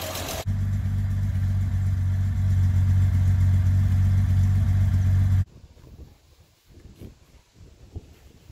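A 1951 European car with headers idles steadily with a deep, constant rumble for about five seconds, then cuts off abruptly, leaving faint background noise and a few small knocks.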